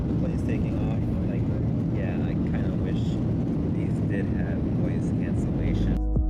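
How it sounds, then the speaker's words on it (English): An airplane taking off gives a loud, steady engine roar and rumble that fills the cabin from start to finish, while a person talks throughout. "The plane's taking off."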